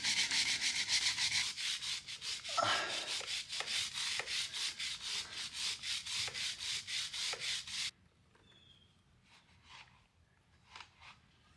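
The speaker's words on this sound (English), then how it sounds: "we're going to take one of these brushes I got on Amazon for, I don't know, a couple bucks. And we just get scrubbing" A cheap brush scrubs the chain of a KLR 650 motorcycle in fast, rhythmic back-and-forth strokes, close and steady for about eight seconds, then stops and leaves only a few faint taps.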